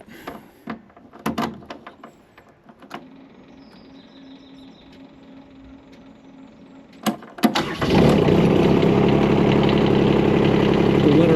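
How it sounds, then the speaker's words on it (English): A Rippa R13 Pro mini excavator's engine cranks and catches near the end, settling into a loud, steady idle after several seconds of quieter clicks and handling noises. "So now we're gonna get the machine started and get it warmed up."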